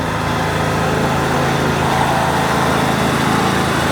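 A small tractor driven by a child in a Christmas parade in Greytown, New Zealand, its engine droning steadily and loudly up close for the whole stretch, with no talk over it.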